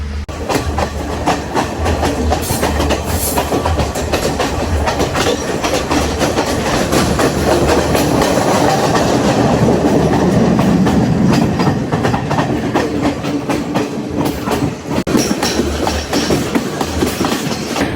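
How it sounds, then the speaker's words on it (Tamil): A Kandy to Ella train in Sri Lanka rumbles steadily nearby for the whole stretch, wheels clacking over the rails with a brief dip in loudness near the end. "இங்கே ஒரு அடுத்த ட்ரெயின் ஒன்று வருது"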